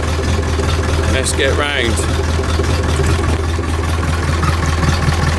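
Massey Ferguson tractor engine running steadily at a low, loud rumble as the loader lifts on a farm at a silage clamp, with someone speaking briefly over it.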